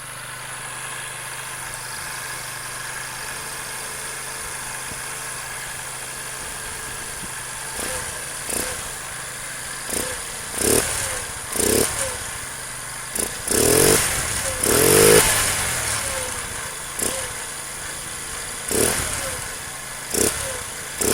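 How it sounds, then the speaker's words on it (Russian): Carbureted engine, with its fuel level raised, idling steadily and then blipped through a series of short, rising revs that grow louder and come in bursts toward the end, with no talk over it. "А вот как начал работать двигатель после увеличения уровня топлива."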